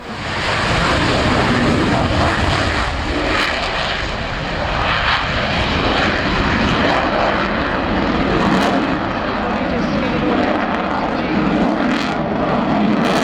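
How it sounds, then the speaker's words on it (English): A Royal Air Force Typhoon jet performing its 2015 display at the Yeovilton Air Day airshow, a loud, continuous roaring engine that swells and fades slightly as it passes, dominating the whole stretch with no talk. "This is the 2015 Royal Air Force Typhoon display, and I think you'll agree, it is incredible."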